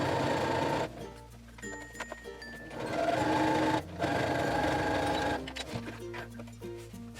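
A sewing machine stitching a half-inch seam in lining fabric for a cross-body water bottle holder bag, a close, steady motor whir and needle chatter that runs in long bursts with brief stops.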